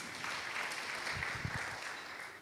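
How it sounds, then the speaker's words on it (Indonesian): A church congregation claps together during a Sunday service, a dense, steady patter of many hands held at moderate volume through the whole stretch. "Beri tepuk tangan buat Tuhan Yesus."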